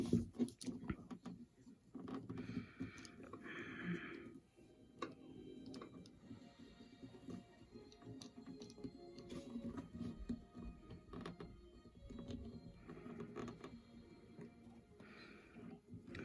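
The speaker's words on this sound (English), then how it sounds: "Looks like it's got 2 screws. Okay, well, let's get some batteries. I got me a screwdriver." Faint, close clicking and ticking comes from a screwdriver turning the small screws on a robot's battery compartment, in irregular bursts over quiet room noise.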